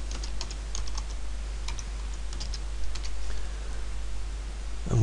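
Computer keyboard keys tapped in short bursts while a report name is entered in Microsoft Access, close and fairly quiet, with no speech.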